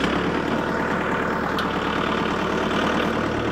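Kubota tractor engine idles steadily and close by, a loud continuous low rumble with an even knocking rhythm and no talk.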